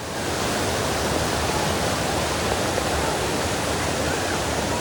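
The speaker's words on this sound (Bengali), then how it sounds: "একদম হাঁটতে হাঁটতে ওয়াটারফলসের সামনে চলে এসেছি। দেখো জল যাচ্ছে কিভাবে" A waterfall on the Silk Route in East Sikkim pours in a steady, loud, broadband rush of falling water, close by and unbroken, with no voices over it.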